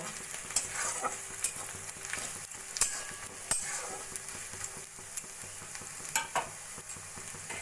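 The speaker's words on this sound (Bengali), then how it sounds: "নুন, হলুদ আর সামান্য কাশ্মীরি লঙ্কার গুঁড়ো দিয়েও কিছুক্ষণ ভাজা ভাজা করে নেব" Onions fry in a pan with salt, turmeric and Kashmiri chili powder, giving a low, quiet sizzle broken by sharp spatula scrapes and taps as the mixture is stirred, with no voices.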